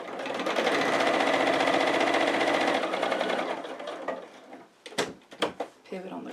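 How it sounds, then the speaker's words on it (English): A sewing machine runs a lengthened straight stitch through chunky foam stabilizer fabric, a loud, close, rapid whirring for about four seconds, then stops amid a few clunks and handling knocks. "I like to lengthen my straight stitch a little bit too because I'm working with chunkier fabrics like that stabilizer, that foam stabilizer"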